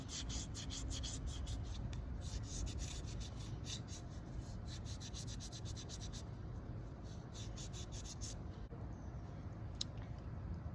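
Fine 1000-grit sandpaper rubbed against a metal wheelchair rear axle, quick rhythmic rasping strokes up close that stop partway through, leaving quiet background, no speech.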